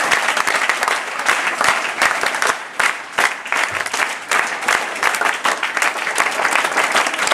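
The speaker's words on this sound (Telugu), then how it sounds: "వారికి మీరందరూ ఒకసారి క్లాప్స్ చెప్పాలి." Classroom students at a school in Karimnagar clap together in loud, sustained applause that runs unbroken from start to finish.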